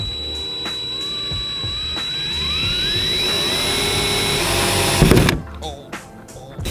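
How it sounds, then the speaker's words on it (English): A power drill whines steadily while boring holes into the body of a Nissan 350Z for a rear duck-tail spoiler, its pitch climbing as the motor revs, then cuts off abruptly before a few handling clatters. "Just finished drilling the holes a small bit."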